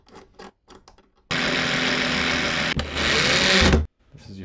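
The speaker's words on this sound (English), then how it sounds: "we're gonna use these very two long screws right here to secure this in place" A power drill drives long screws into a smart lock mounting bracket on a door, running in two steady whirring bursts with a brief pause between them and close, loud, with only short sounds before and after.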